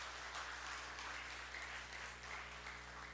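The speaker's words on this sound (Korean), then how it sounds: "박수로 우리 화답합시다" A church congregation claps in response after a Thanksgiving choir performance, producing a soft, steady patter of applause over a low, constant hum in the sanctuary.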